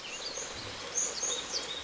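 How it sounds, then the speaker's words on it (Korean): Great tit calling in a mountain farmyard in spring, thin high whistled notes repeating over a steady outdoor background, fairly faint and distant with no talk. "박새 같아요."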